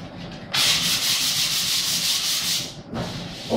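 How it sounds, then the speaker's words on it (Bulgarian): Hand sanding of wood with 100-grit sandpaper makes a loud, even scratching rasp of back-and-forth strokes lasting over two seconds, a brief pause, then another stroke starting. "Това цялото ще го заскурим. Седра шкурка 100."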